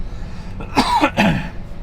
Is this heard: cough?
yes